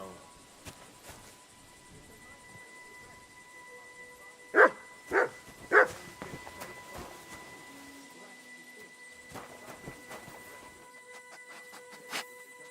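A dog named Mutt in the medieval game Kingdom Come: Deliverance 2 gives three sharp barks in close succession at mid distance, set against quiet game ambience with faint talk.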